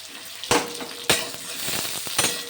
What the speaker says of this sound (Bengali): তেলের মধ্যে বেগুন দিয়ে দিলাম